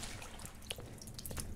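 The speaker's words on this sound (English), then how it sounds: "oh, I'm dripping." Soft water drips and trickles in an empty pool setting from a liminal horror game, faint scattered droplets over a quiet watery background.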